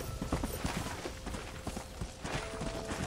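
Horse hooves clip-clop steadily in Red Dead Redemption, a continuous rhythmic run of close, moderately loud hoofbeats over a dense game-world background, with no talking.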